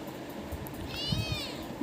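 A kitten gives one short, clear meow partway through, close by. Soft indoor rustles and handling bumps sit around it, with no talk.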